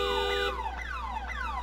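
A car alarm on a city street blares loudly, a steady electronic tone giving way to repeated rising-and-falling warbling sweeps, about three cycles in quick succession.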